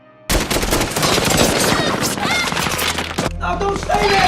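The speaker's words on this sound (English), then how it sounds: "Ranging from bazooka to caliber weapons penetrated the walls of his house until it was completely destroyed." Weapons fire on a house in a film, from bazookas down to smaller-calibre guns. Dense machine-gun bursts and booming shots pour out in a loud, continuous barrage, and a voice speaks under it near the end.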